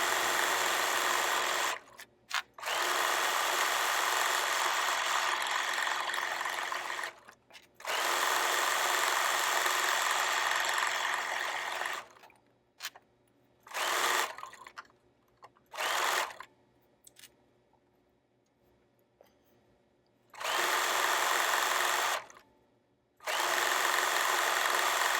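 A sewing machine stitches a canvas tote bag, whirring in long continuous runs of rapid stitching, stopping and starting several times with short bursts and quiet pauses between.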